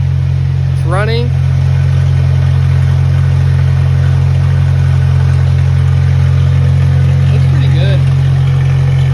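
A Datsun 521 engine idles with a loud, steady, low rumble that runs unbroken throughout, while someone speaks briefly over it.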